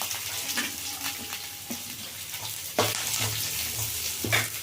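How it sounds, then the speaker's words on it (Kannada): Onions sizzle and crackle in hot oil in a pan with green chillies for a prawn and egg stir-fry, a steady frying hiss broken by a few sharp stirring clatters, close and moderately loud with no talk. "ಇದನ್ನು ಫಸ್ಟ್ ಫ್ರೈ ಮಾಡ್ಕೊಳ್ಳೋಣ. ಈರುಳ್ಳಿ ಹಾಕ್ತಾ ಇದ್ದೀನಿ."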